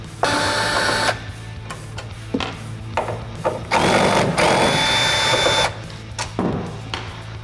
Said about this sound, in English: So using a T15 torque screw, we're going to remove these two bolts.